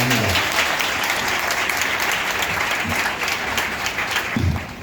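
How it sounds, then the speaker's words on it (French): Sustained applause from a church congregation at a first communion service for children at Sainte Famille parish in Akogbato, steady clapping throughout with a few brief voices breaking through near the start and end. "Et je pense que on va vous acclamer, non? On va acclamer là."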